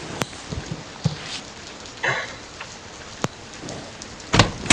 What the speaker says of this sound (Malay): Dengar macam bunyi hujan.